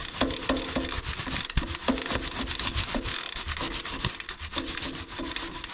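A mountain bike cassette and chain are scrubbed together with cleaner, giving a rhythmic, close brushing and rubbing in quick repeated strokes, with no speech.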